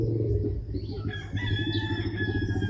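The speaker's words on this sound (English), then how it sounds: "Rooster over there." A rooster crows in the middle distance, its drawn-out call rising over a low steady rumble of background noise.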